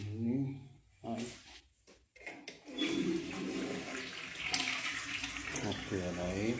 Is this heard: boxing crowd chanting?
no